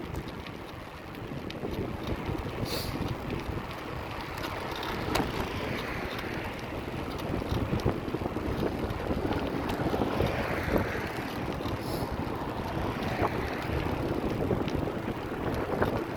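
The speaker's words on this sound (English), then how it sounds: "Oh, this headwind now is about a 4-mile-per-hour headwind." Steady, roaring headwind buffets the microphone while bicycling along a beach on Sanibel Island, Florida, a continuous broadband rush that swells and dips slightly throughout with no speech.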